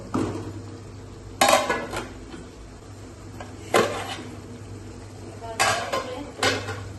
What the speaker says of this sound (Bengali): কাঁকরোলগুলো দিয়ে কিছুক্ষণের জন্য কষিয়ে নিব।